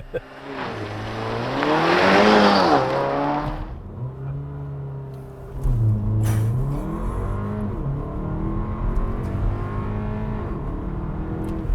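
A Porsche SUV's engine revs hard on a launch-control start and accelerates loudly through rising gear pulls, easing briefly before surging again, heard up close inside the cabin.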